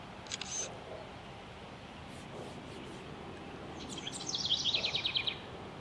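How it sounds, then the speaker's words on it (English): A soft DJI Mavic Air drone camera shutter click near the start, then a quick burst of rapid clicks later, over a quiet outdoor background. "We'll go ahead and hit the shutter button."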